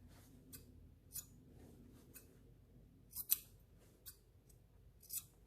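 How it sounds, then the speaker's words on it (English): Scissors snip the corners of a fabric face mask, about six quiet, crisp cuts spaced irregularly over near silence. "you're going to snip off your corners. Don't cut your stitching."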